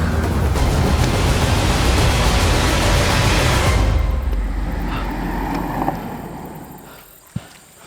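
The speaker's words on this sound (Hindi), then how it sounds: "जमील, गाड़ी तेज चलाओ, रोको मत।" A car driving fast on a road, with a loud, steady broadband roar of engine and road noise that abruptly drops after about four seconds to a quieter rumble, ending with a brief knock.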